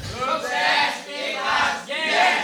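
A group at an Indonesian farmers' workshop on homemade livestock feed chants a loud rhythmic yell in unison, three swelling shouted bursts filling the room with no other talk.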